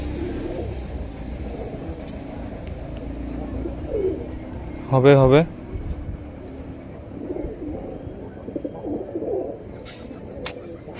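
A newly arrived pet pigeon gives one short, fairly close coo partway through, with people talking softly nearby and faint background noise throughout.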